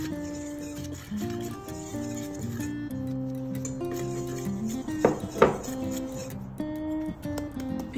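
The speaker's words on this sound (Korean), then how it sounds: "채친 가루 재료들은 골고루 한번 섞어주세요." Sifted dry ingredients being stirred together in a bowl for tang zhong soboro bread, giving soft, steady rubbing and scraping with two sharp utensil clinks near the middle, all under continuous background music.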